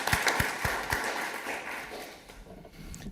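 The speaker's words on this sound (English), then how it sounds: "Can I have a round of applause," A city council meeting audience claps together in a brief round of applause, with dense overlapping claps loudest at first, then thinning and fading toward the end.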